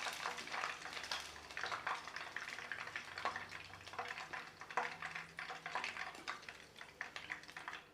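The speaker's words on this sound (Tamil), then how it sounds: "இதே மாதிரியே எல்லா கறியும் நம்ம பொரிச்சு எடுத்துடலாங்க." Chicken 65 leg pieces deep frying in hot oil, a steady bubbling sizzle with crackling bursts and occasional clinks, heard close and fairly quiet, with no voices.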